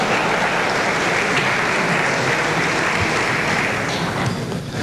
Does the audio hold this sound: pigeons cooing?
no